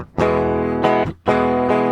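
Electric guitar with a light distortion effect playing a riff, sustained crunchy chords in a steady rhythm with short breaks between phrases, close and clear.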